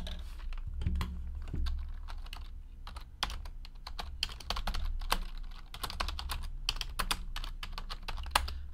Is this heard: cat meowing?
no